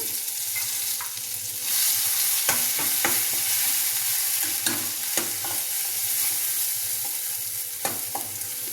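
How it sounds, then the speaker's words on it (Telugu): Masala paste for mutton curry fries in hot oil with a dense, continuous sizzle, punctuated by sharp scrapes and knocks as a spoon stirs it around the pan. "ఈ మసాలా ముద్దని వేయించుకోవాలి"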